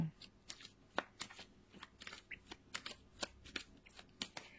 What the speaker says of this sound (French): je voulais vous faire un tirage carte